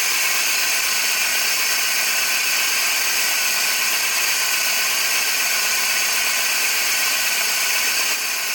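Just after a cold start, a car engine runs with a loud, steady hiss of air rushing through the intake manifold, which dominates over a faint, even engine drone, with no voices.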